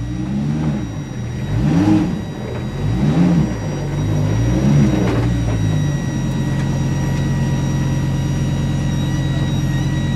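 A Lamborghini Huracan Super Trofeo Evo 2 race car engine pulls away with the clutch eased out, rising through a few loud revving surges before settling into a steady close drone.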